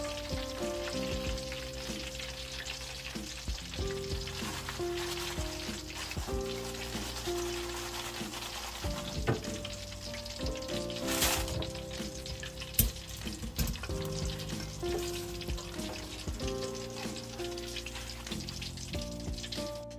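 Plantain chips, cut as round slices, fry steadily in hot oil with a dense, continuous sizzle and bubbling that runs throughout, with occasional louder pops and small clinks, no talking.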